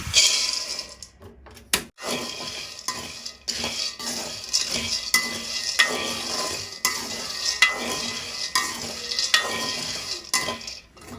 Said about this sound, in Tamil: அடுத்த வந்து கச்சான் கச்சானா வறுப்பு